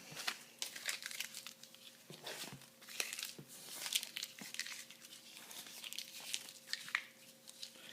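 Paper draft slips squished by hand in a hat for an NBA draft order drawing, soft close crinkling and rustling in irregular bursts, faint and continuous with a low background hum.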